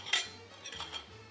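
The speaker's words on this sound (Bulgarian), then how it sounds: "Сега в тенджерката ще сложа 10 лъжици захар" A spoon clinks against a metal saucepan while sugar goes into milk, one sharp clink followed by softer scraping taps, close and quiet with no talk.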